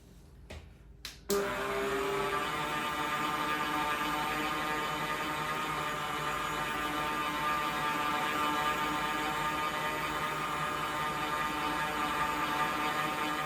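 AGARO electric mop with rotating pads switched on after a few clicks, then a steady close whirring hum that runs on evenly.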